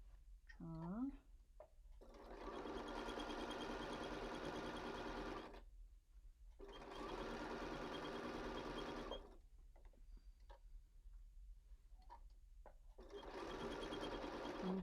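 Sewing machine stitching and back stitching a square-in-a-square pillow, running in three long steady bursts with short pauses between, close and fairly loud; a brief voice comes in at the start.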